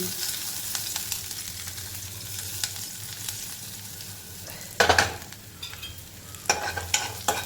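Crushed garlic and asafoetida frying in oil as a spoon stirs them around the pan, a continuous close sizzle broken by a few louder scraping strokes against the metal.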